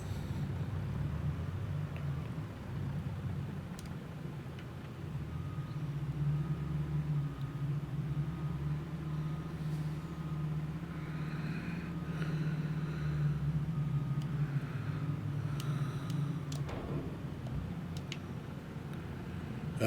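A Mack truck in Farming Simulator 22 drives steadily with a low, constant engine drone and rumble that swells slightly midway, with faint clicks over it.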